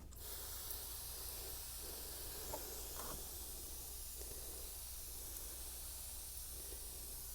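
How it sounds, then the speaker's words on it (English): Hand water sprayer misting seeds in a pre-moistened seed tray for geranium and lisianthus, a faint steady hiss of fine spray with a couple of brief puffs, quiet and continuous, nobody talking. "I'm going to take my sprayer and just settle all the seeds in."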